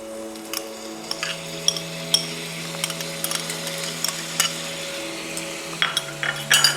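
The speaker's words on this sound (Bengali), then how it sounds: "ভালো করে নেড়ে চেড়ে নেবো" A spoon clinks and scrapes through chicken and spice paste frying in a pan with only a light sizzle underneath. Stirring strokes come in irregular bursts, and a steady tonal hum runs beneath them.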